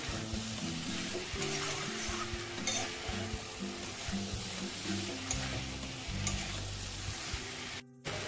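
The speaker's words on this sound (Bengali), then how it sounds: "এই আলু আর এঁচোড়টা দিয়ে দেবো। এটা দিয়ে আমি খুব ভালো করে" Potato and raw jackfruit stir-fried in oil in a pan, a continuous close sizzle with repeated scraping and stirring strokes of a spatula across the pan, alone without speech.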